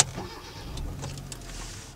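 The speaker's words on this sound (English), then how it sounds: "The next thing you'll notice is the engine as soon as you turn the car on." A 2015 Hyundai Accent engine starts up and settles into a low, steady idle, heard from inside the car as a quiet rumble with a few faint clicks and no one talking.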